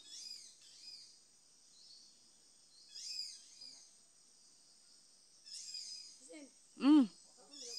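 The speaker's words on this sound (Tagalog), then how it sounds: "Ang ganyan yung mga huni. Pakinggan nyo." Thin, high chirping bird calls repeat in soft bursts over a quiet countryside background, with a louder, closer call near the end.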